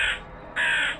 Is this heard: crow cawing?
yes